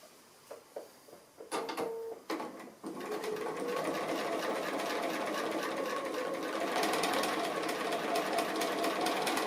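A few light taps and clicks come first, then a sewing machine starts up and stitches an appliqué in a steady, close, continuous whirring run that grows slightly louder toward the end.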